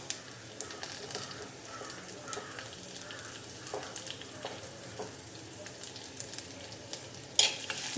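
Shallots and curry leaves fry in a pan over a medium flame with a soft, steady sizzle and occasional light stirring taps, quiet and close, ending in a louder clatter.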